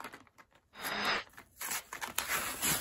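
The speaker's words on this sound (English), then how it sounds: "Got good ripping sound effects." Pen packaging being ripped open by hand: several short, close tearing and crinkling bursts of plastic and cardboard in quick succession, fairly quiet, with no talk.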